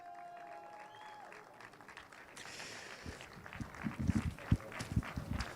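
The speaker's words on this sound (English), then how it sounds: "a big round of applause" Scattered applause breaks out for the podium finishers at a motor race at Portimão, starting faint and distant, then growing into louder, uneven clapping from a modest crowd.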